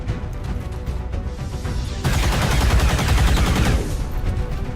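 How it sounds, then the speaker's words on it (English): Shredder weapon firing in XCOM 2, a dense burst of heavy gunfire that swells suddenly and rumbles for a couple of seconds, loud and close. "Try and take a shredder shot on the Mouton"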